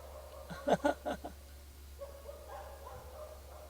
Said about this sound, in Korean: 저 밑에 보면 가수원에서 개가 두 마리 있는데 지금 뭐 짖고 난리가 났습니다